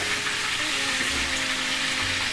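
Tap water runs steadily onto a pan and bowl being rinsed at a kitchen sink, a close, continuous hiss and splash with no talking.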